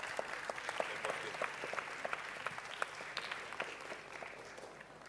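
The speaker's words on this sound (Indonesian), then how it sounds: "Mungkin kita bisa tepuk tangan bersama" A crowd applauds steadily at a climate-crisis panel session, many hands clapping in a dense, sustained patter that fades slightly toward the end, heard at moderate distance.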